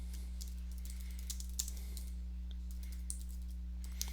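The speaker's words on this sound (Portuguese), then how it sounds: "vou simplesmente digitar o tab, né, apertar tab aqui no meu teclado" Light typing on a computer keyboard with a tab key press, a few faint scattered clicks over a steady electrical hum.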